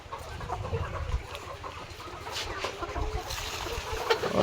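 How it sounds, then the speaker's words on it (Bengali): Hens in a poultry shed holding about 1800 birds in cages cluck and murmur at moderate distance, a soft, busy chorus with occasional sharper calls. "আর এই সেটে আছে মোট আমার টোটাল 1800 মুরগি"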